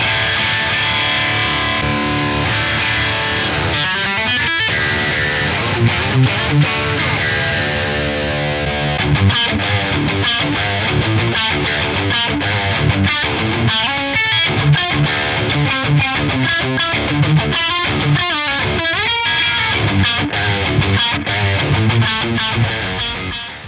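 A distorted electric guitar played through the GGD Studio Cabs IR plugin, heard alone as a thick, saturated riff with sustained chords and rhythmic chugging, loud and steady throughout.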